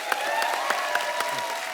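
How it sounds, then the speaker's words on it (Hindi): Studio audience applause on a Hindi comedy talk show, a steady wash of clapping from a large crowd that stays loud and even across the short stretch, with no talk over it. "पहले तो दोनों भाइयों के लिए जोरदार तालियां।"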